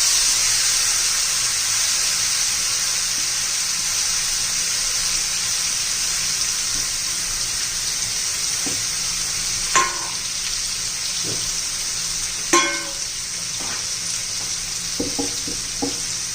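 Cauliflower florets sizzling in a hot cumin and mustard seed tempering, a steady loud frying hiss with a few clinks and scrapes from stirring toward the end.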